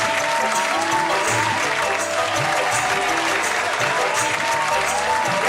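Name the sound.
audience applause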